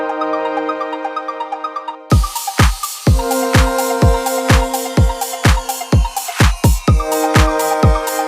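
A music production beat: after a sustained tonal intro, punchy kick drum and clap hits enter and repeat in a steady rhythm under a bright synth pad, loud and upfront.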